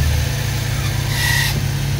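A Suzuki Multicab engine idles after being started, a steady low, rhythmic mechanical thrum running throughout, fairly loud and close, with no one talking over it.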